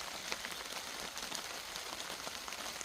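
Rain falls steadily during a thunderstorm at a wild camp, a dense, even hiss of drops pattering on a nearby surface, fairly quiet and with no talking.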